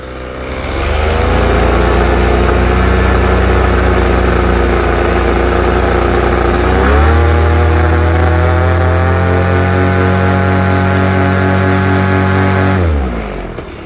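A Moster 185 paramotor engine runs up loud and close, climbing from idle to a sustained high buzzing drone, stepping up in pitch midway and holding before cutting off abruptly near the end.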